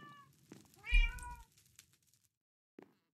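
A cat downstairs gives one clear, drawn-out meow, moderately close, followed by a couple of faint short sounds and near silence.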